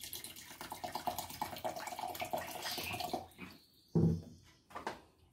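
A litre of ice-cold water is poured for orange juice made with jenipapo, giving a steady splashing stream for about three seconds before it tapers into a few separate splashes and drips, close and fairly loud.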